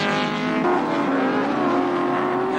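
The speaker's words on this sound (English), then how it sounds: "the battle for the manufacturer's title is very much down to these 2 brands of cars, the Nissan being driven by Scott" Nissan and BMW touring cars race at Calder Park in 1986, engines screaming at high revs as they sweep past, a loud continuous whine with shifting pitch.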